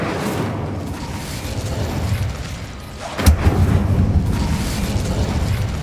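In the Hogwarts Legacy video game, a fire spell bursts with a sudden deep blast over a steady rumbling ambient bed, the boom swelling and lingering afterward.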